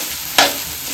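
A spatula stirs and mixes a Gujarati dish in a pan, giving one brief scraping burst over a steady sizzling background.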